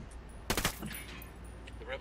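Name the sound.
gunfire in the video game Ghost Recon Wildlands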